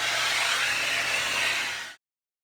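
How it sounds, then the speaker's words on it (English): A hair dryer blowing hair on high heat and high air, loud and close as a steady broadband rushing whoosh that cuts off abruptly. "blow dry the inside of your hair first"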